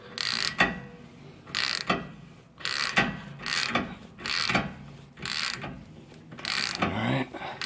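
A ratchet tightens a wheel stud installer tool, heard up close as repeated bursts of rapid clicking strokes, about eight in a row, each separated by a short pause, with no talking.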